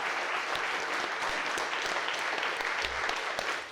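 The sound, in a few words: applause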